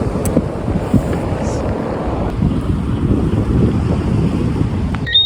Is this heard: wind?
yes